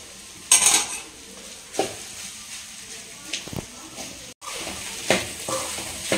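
A spoon stirs and mixes crumbled idli upma in a metal pan, giving scattered scrapes and clinks against the pan at close range, with faint voices in the background.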